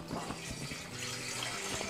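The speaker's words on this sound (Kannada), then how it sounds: "ಈಗ ಅದಕ್ಕೆ ನೀರು ಹಾಕೊತೀನಿ ರೀ." Water poured into a cooking pot set on a stove, a steady gushing stream that runs unbroken and close by with no voices.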